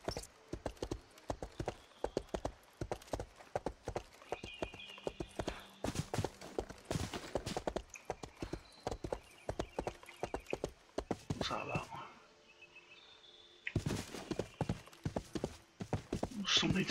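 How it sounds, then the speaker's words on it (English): A horse ridden in the RIFT video game clip-clops at a steady trotting rhythm, with close, crisp hoofbeats that drop out briefly near the end before resuming, and someone talks over them. "Let's get on our horse"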